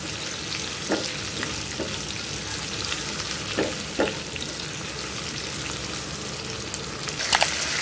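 Ingredients with whole cumin seeds fry and get mixed in a pan, a steady close sizzle with scattered light spatula taps and scrapes at irregular moments, no voices over it.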